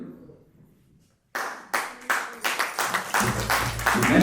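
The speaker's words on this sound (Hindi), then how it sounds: "लोग तालियां पता नहीं क्यों बजा रहे हैं" An audience at an annual poetry gathering breaks into applause after a hush, the clapping rising from scattered claps into a steady, building round.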